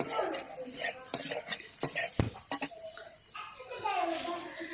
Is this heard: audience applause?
no